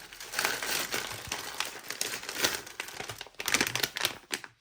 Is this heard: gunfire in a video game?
no